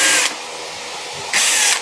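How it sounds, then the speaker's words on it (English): A DeWalt cordless drill with clutch setting whirs in two short bursts driving screws, one at the start and one near the end, with a quieter stretch between. "my DeWalt drill with the clutch setting on it."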